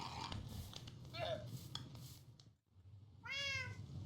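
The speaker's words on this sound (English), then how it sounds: "We're dealing with a cat." A house cat meows once near the end, a clear rising-and-falling call, after a stretch of quiet indoor background noise with faint clatter.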